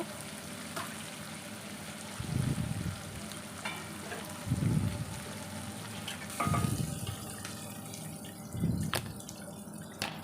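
Onion, tomato and ginger-garlic paste fry in oil for bisi bele bath, a low constant sizzle broken by four evenly spaced bursts of stirring and scraping in the pan.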